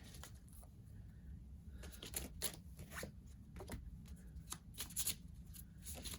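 Tarot cards being shuffled by hand, a soft close riffling of papery flicks and slides that comes in repeated bursts at a low level, with no talk.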